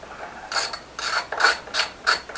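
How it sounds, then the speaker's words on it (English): A ratchet loosens 8mm Allen head bolts on a Honda CBR650R tail tidy, making five quick close bursts of clicking pawl teeth with short pauses between them, heard alone. "The original tail tidy attaches by 4 8mm Allen head bolts, so we're just going to loosen those off to start with"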